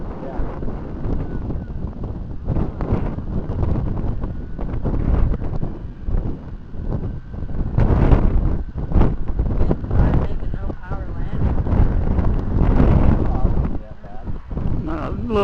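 Strong gusty wind buffets the microphone at a model airplane flying field, loud rumbling bursts that swell and fade over steady roar, with people talking at times.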